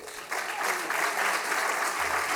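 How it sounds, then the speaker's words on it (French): Audience applause at a speech for the Fête de la Pomme in Normandy: a short burst of dense, steady clapping from a room of people that rises quickly and continues evenly without talk. "On vous applaudit."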